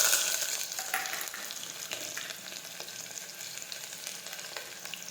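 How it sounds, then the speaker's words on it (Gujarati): Mustard seeds and cumin sizzling in hot oil, a loud, close hiss that starts strongest and eases slightly, scattered with sharp crackles and pops, no voices. "હવે આપણું તેલ છે તે ગરમ થઈ ગયું છે। હવે આપણે તેમાં રાઈ અને જીરું નાખી દઈશું।"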